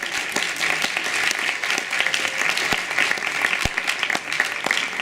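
Audience applause for a little girl who sang, dense continuous clapping from a crowd at steady volume with a few sharp louder claps standing out.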